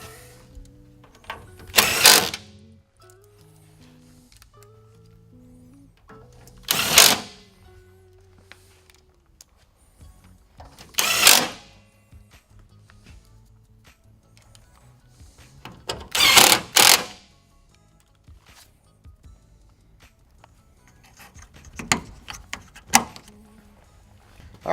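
A power tool drives bolts on a 2014-17 Toyota Tundra in five separate short, loud whirring bursts, each about a second long, with quiet pauses and small clicks between them.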